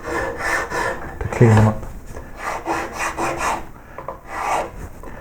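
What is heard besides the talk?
half round rasp filing carved wooden koi tail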